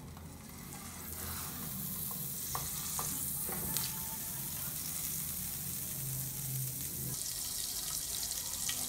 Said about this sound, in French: je vais faire fondre soit 20 g de beurre.